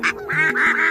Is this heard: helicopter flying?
no